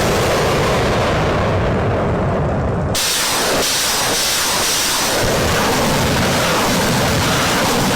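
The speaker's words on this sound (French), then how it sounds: "L'artillerie est mise à contribution et la base est détruite depuis des kilomètres." Artillery fire destroying a base: a loud, broad rushing blast cuts in suddenly and rolls on as a long, dense roar that keeps going to the end.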